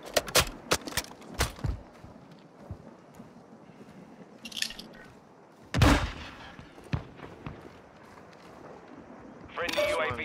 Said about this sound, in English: Shooting.